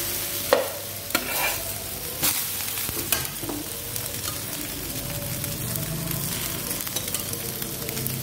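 French toast made from egg-soaked bread fries in a pan, giving a quiet, steady sizzle with a few stirring and scraping clicks near the start.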